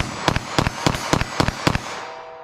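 A Smith & Wesson Shield EZ pistol in .380 ACP fires six sharp shots at a quick, even pace. Each crack is followed by a short echo, and the range goes quiet afterward.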